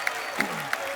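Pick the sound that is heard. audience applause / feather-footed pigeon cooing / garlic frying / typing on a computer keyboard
audience applause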